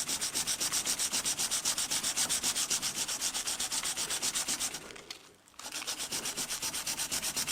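A Scandi grind knife is hand-sharpened on a stone with a steady, rhythmic scraping of strokes, close and alone, with a short pause near the end before the strokes resume.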